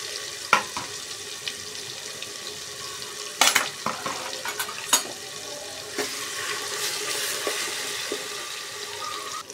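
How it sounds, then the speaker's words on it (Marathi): Masala spice paste fries in hot oil for Surti undhiyu, a steady soft sizzle with a few sharp clinks and scrapes of a spoon as it is stirred, close by and with no talking. "आता तेल गरम झालं ना, आता आपल्याला हा मसाला याच्यात टाकून घ्यायचा. चांगला परतून घ्यायचा."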